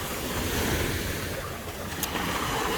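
Ocean waves wash onto the beach at Bal Harbour, Miami, a constant broad rushing surf close by, mixed with gusty wind buffeting the microphone.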